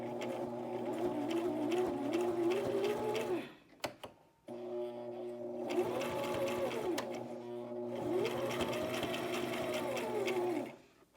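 A home sewing machine stitches a face mask in quick bursts at close range, with a whirring motor and rapid needle chatter. Two long runs are separated by a short pause with a few light clicks, and a faint voice may sit under the machine.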